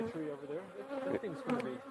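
Bees buzzing close by, a steady droning hum with wavering pitch as individual insects drift past, returning to the hive covered in pollen, no voices.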